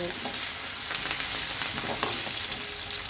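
Onions sautéing in a pan for prawn curry, a steady, even sizzle with faint stirring scrapes throughout and no talking.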